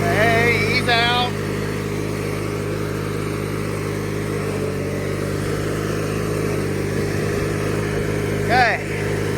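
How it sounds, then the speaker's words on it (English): A 1997 MTD Yard Machines riding lawn mower, long unused, idles with a steady low engine drone throughout, close by, while voices briefly speak over it near the start and end. "Nice little yard machine mower ride for you."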